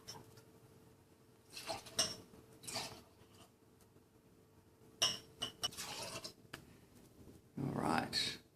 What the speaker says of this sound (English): I'm just going to pour this into another glass and then pour it back and let it settle for a little bit